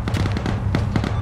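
Video game combat with a run of explosions the player calls grenades, going off near a barn: a steady, loud burst of cracks and booms with several sharp peaks over a low rumble, no speech.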